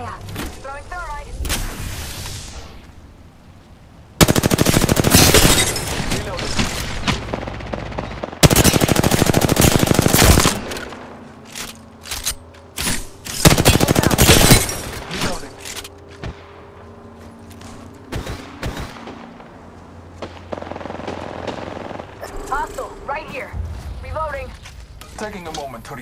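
Heavy automatic gunfire in Apex Legends comes at the player in loud, sustained bursts separated by short gaps, with sharp single shots and impacts in between and a character voice talking over parts of it.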